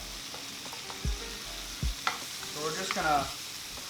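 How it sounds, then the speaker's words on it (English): Onions fry in a pan for Thai drunken noodles, a steady sizzle with a few stirring scrapes and clinks, while a person speaks briefly over it. "I want to cook the onions until they're nice and sweaty"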